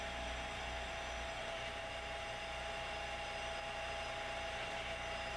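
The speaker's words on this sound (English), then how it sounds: "Once the machine is running, engage the starting clutch by moving the clutch lever to the left." A Davenport automatic screw machine runs with a steady, even mechanical drone and a faint sustained whine. It stays constant for the whole stretch, with no distinct impacts and no speech.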